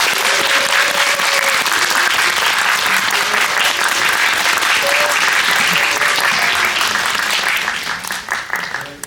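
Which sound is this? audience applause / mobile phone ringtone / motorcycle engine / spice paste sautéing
audience applause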